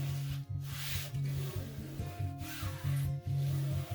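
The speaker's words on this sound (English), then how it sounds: "So just really rub this down really good." A hand rubs canvas down onto glue, producing quiet, close, repeated rubbing strokes that scrape and swish in an uneven rhythm.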